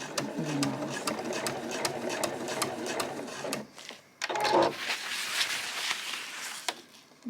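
A sewing machine stitches a tote bag with red thread in close, rapid mechanical bursts, pausing briefly before running again, with small handling clicks between the runs.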